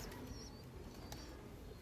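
Deep-eyed pet pigeons cooing softly and faintly amid a busy background hiss, a few low murmuring calls over under two seconds.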